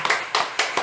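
Congregation at a church service breaking into clapping, three distinct bursts of hand claps in quick succession, fairly close and loud with no talking over them.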